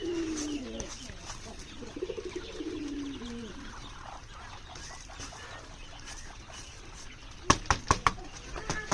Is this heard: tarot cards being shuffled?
no